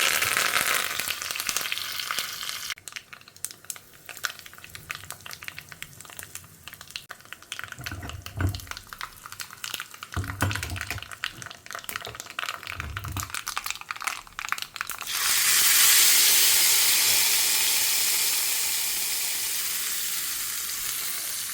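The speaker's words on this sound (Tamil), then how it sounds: "எப்பயும் போல் பேசிக் தாளிப்புகள் தான். உளுத்தம்பருப்பு, கடலைப்பருப்பு," Urad dal, chana dal and curry leaves crackle and spit in hot oil as a basic tempering, a busy sizzle with scattered pops and a few stirring scrapes, ending in a louder, even hiss.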